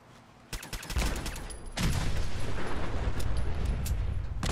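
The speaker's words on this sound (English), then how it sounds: "I have a double explosion there" Explosions in the video game Fallout 4: a burst of sharp blasts, then a sustained loud rumbling roar with crackling reports layered through it, close and heavy, with no talk over it.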